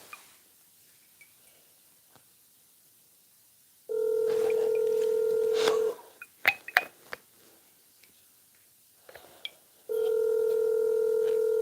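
A steady telephone dial tone from a phone call plays, cuts off for a couple of seconds of clicks and taps, then starts again. It sounds moderately close, with no talking.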